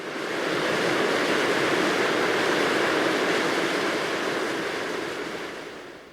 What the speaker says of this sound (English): A swollen waterfall pours into the river.